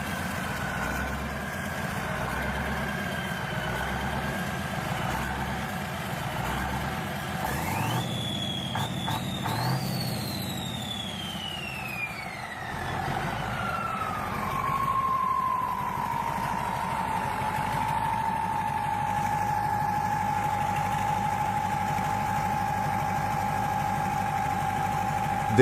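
Antique YAMZ 238N diesel engine cold starting and idling: a steady low rumble with a rising then falling whine midway, settling into an even, continuous idle.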